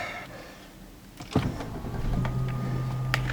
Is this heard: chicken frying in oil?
no